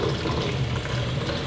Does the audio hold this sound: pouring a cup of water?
yes